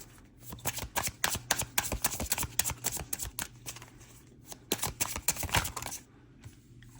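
Tarot cards are riffled and shuffled in quick bursts of crisp, close flutters, pausing briefly in the middle before a second run of snapping shuffles and a quiet end.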